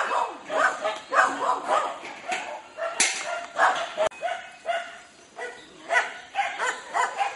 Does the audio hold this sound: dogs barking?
yes